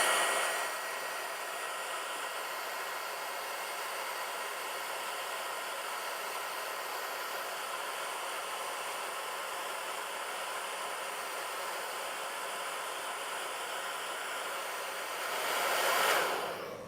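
A hair dryer blows steadily on the paint of a BMW SUV to heal a scratch, a constant close airy roar with no talk, swelling briefly louder near the end.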